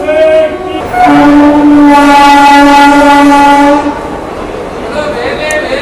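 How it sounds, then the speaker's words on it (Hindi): A train pulls in on the track at an Indian station, its loud horn sounding a long sustained blast near at hand before the rumble of the wagons continues underneath. "ओह, हमारी तरफ से ट्रेन आ गई है।"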